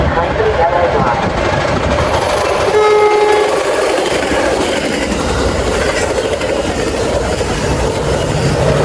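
A railroad train thunders past close by at a station in LaVergne, its horn sounding loudly in a sustained blast over the heavy rumble and clatter of wagons, which continues steadily throughout.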